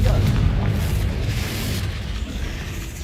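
In Hogwarts Legacy, a Confringo fire spell bursts into a loud, rumbling explosive boom that rolls on for several seconds as a thick low roar with crackling debris.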